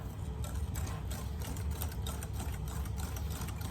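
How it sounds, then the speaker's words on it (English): Batter for traditional Albanian tatli dessert, with vegetable oil added, is beaten by an electric mixer, giving a steady whirring motor hum with a fast mechanical rattle that runs unbroken and fairly close for the whole stretch, with no talking. "Just mix this for a couple of minutes."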